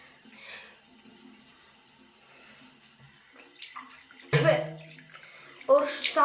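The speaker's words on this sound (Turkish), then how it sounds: "Hadi yüzümüzü yıkayalım." Tap water runs and splashes at a bathroom sink during face washing. It comes in two loud, close bursts late in the clip, after a quieter stretch with soft voice sounds.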